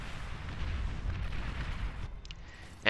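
Artillery fire in the strategy game Beyond All Reason rumbles as a low, rolling barrage of distant booms, followed by a sharp close burst at the very end.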